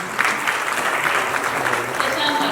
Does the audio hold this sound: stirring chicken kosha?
no